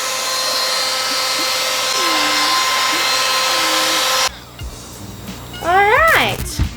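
A hot air styler blows steadily and loudly while drying tangled hair, a broad continuous whoosh for about four seconds before it cuts off, followed by quieter handling noise and a brief high squeaky sound near the end.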